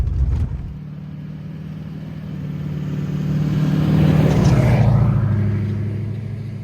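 A snowmobile engine drones steadily while riding down a snowy trail in the cold, its pitch rising and swelling louder midway before easing back, close and continuous with no talking.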